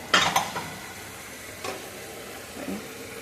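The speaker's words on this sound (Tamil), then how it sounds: "லைட்டாக அந்த உள்ளே இருக்கிறதெல்லாம் கூட லைட்டாக அப்படியே கலந்து விட்டுடலாம்." Tamarind rice being stirred in a pressure cooker, with a few close scraping, rustling strokes of a spoon through the cooked rice, the clearest near the start and fainter ones following after pauses.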